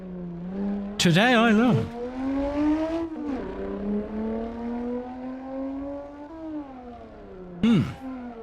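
A Toyota V6 car engine in the racing game Assetto Corsa drones steadily and climbs slowly in pitch as it pulls through the gears, with a voice speaking over it and sharp whooping bursts breaking in near the start and end.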